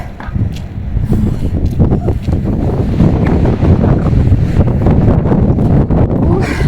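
Cold wind blows outdoors after fresh snowfall, rumbling and buffeting across the microphone in loud, uneven gusts without a break.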